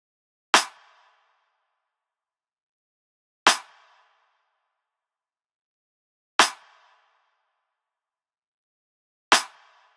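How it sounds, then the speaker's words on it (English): Four evenly spaced snare hits, each a clap layered with a rim shot, sharp and bright with a quick decay, played solo with silence between them. "It's made up from just two hits, a clap and a rim shot."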